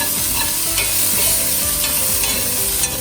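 Vegetables sautéing in a pan with salt for a kathirikai gotsu, a loud, continuous sizzle broken by repeated scraping strokes of a spoon stirring through the pan, with no talking.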